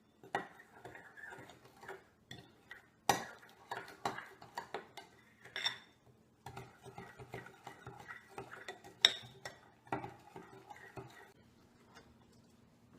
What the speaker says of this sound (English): a quarter teaspoon of cider vinegar, and mix the ingredients together